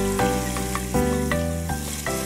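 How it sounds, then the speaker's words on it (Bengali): Onion paste fries in a pan for a Bengali fish kalia, giving a continuous sizzle with occasional stirring bursts under a steady tonal background of music or hum. "পেঁয়াজের যে কাঁচা গন্ধটা থাকবে এটা যাতে চলে যায় সেই জন্য আমি এটা কিছু ভেজে নিচ্ছি।"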